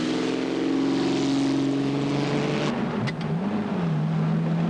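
A classic Aston Martin driving in heavy rain, its engine a steady loud drone with a sustained tone that dips in pitch partway through, passing close with constant road and spray noise.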